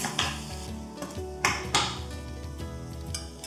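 Metal spoon clanks and scrapes against a pan as roasted gram flour is stirred into spices, a few sharp knocks over background music, no talk.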